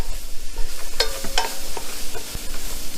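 Vegetables for shrimp étouffée are stirred in a cooking pan, giving a few distinct scraping, clattering strokes over a soft steady sizzle, close and alone with no talk.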